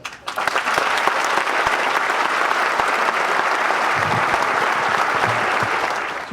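Sustained applause from a large commencement audience at a community college graduation in Warren County, New Jersey, a dense, steady wash of many clapping hands that holds at full strength for several seconds before easing off at the end.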